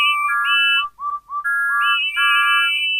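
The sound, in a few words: steam engines whistling, Thomas the Tank Engine remake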